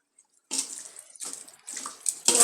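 Water poured into a pot of meat cooking with rock salt, several close bursts of splashing pour separated by brief pauses, fairly loud, with no talking.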